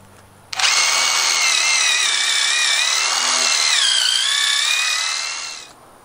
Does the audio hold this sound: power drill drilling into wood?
yes